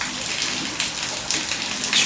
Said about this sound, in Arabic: كما كتشوفوا امطار غزيره تبارك الله، عاصفه رعديه مجهده